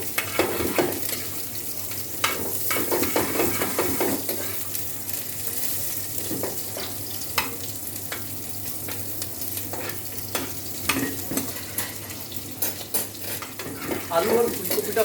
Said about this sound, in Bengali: এবার এতে আমি দিয়ে দিলাম ফুলকপিগুলো। এবার এটাকে সামান্য একটু ভেজে নেব আমি।